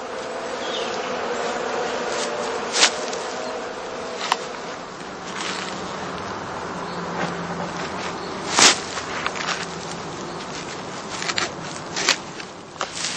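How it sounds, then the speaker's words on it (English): Honey bees forage around heather skep hives in a heathland apiary, making a steady, moderate buzz throughout with a few louder, closer passes as individual insects fly near. "The entrances stay open until evening to allow the bees to forage freely."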